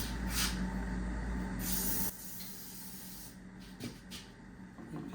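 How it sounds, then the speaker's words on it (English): A spray adhesive can hisses in two loud bursts onto a car seat frame while leather covers are fitted to Triumph TR250 seats, then gives way to quieter handling noises near the microphone. "Now I can spray a little bit here on the frame."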